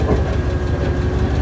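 A 1999 GMC tow truck engine idling low at the roadside, a loud, even chugging throb that continues steadily and close up without talk.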